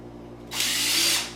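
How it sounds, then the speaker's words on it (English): Cordless drill with the clutch set drives a screw into a wooden kitchen cabinet face frame, one short burst of whirring that stops after about a second, close and fairly loud. "I got that clutch set so it almost acts like a hammer drill."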